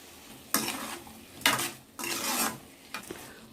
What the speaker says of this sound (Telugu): ఉప్పు కారం పట్టేటట్టు ఇట్లాగా కలుపుకోవాలి